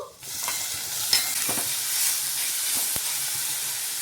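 Onion sautéing in a pan after tomato and cashews go in, a steady soft sizzle with a few light scraping stirs and one sharp clink near the end.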